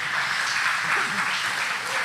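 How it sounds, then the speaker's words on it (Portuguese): Applause from a church congregation, a brief wash of steady clapping at moderate loudness, with a faint voice underneath. "Dá uma salva de palmas para o Senhor."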